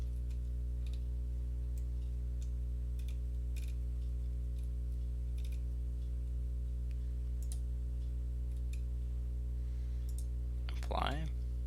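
Faint, scattered mouse clicks while working in CAD assembly software, irregularly spaced over a constant low electrical hum, with a brief chirp near the end.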